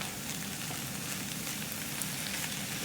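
Peppers fry in a pan, making a soft, continuous crackling sizzle at low volume with scattered tiny pops and no talk.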